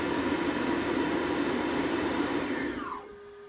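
An HPEVS AC 35 electric motor running at 24 volts whines steadily and loudly as it peaks near 4,600 RPM, then its pitch sweeps down as it winds off, with no voices.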